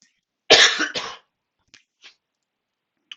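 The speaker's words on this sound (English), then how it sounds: "Just the odd cough today." One hard cough with a quick second burst, followed by a few faint breaths and small throat noises in an otherwise quiet room.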